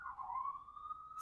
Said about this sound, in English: Damn sirens.